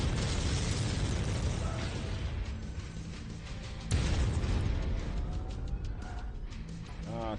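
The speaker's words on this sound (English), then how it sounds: "Warning, incoming missile." Incoming missiles exploding around a mech in MechWarrior 5: a continuous, heavy rumbling barrage with a sharp, loud blast midway, then crackling debris and mechanical whines.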